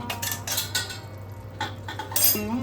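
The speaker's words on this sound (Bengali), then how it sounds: "মাঝে ঢাকাটা খুলে একটু হালকা হাতে নাড়াচাড়া করে দিতে হবে।" A pot lid lifts off and a spoon gently stirs vegetables simmering for a Bengali morich jhol, giving a few close metallic clinks and soft scraping strokes against the pot, with a brief clatter near the end.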